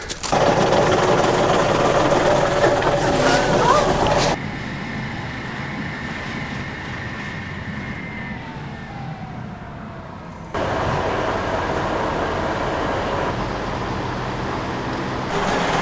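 Steady mechanical rumble of a mountain train in Snowdonia, North Wales, running loud and continuous, dropping quieter in the middle before the heavy churning noise returns.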